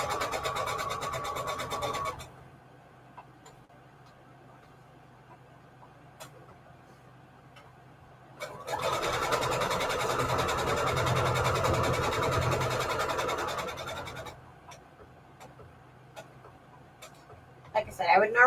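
A sewing machine runs a straight stitch across paper while making a border on a Christmas collage journal card. Two bursts of steady, close mechanical whirring are separated by a quieter pause, with faint ticks near the end.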